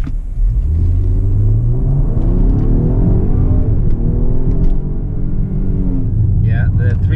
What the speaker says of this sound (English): the 3-liter twin turbocharged EcoBoost V6 is definitely quick.